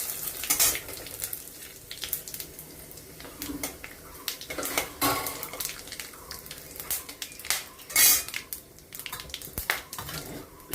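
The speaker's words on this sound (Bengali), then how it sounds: "এবার এই ভাজা তেলের মধ্যে দিয়ে দিব তেজপাতা, গোটা জিরে, গোটা গরম মশলা ফোড়ন।" Bay leaf, cumin and whole garam masala hit hot oil left from frying in a home kitchen, a crackling sizzle with scraping stirs and clinks of a utensil against the pan.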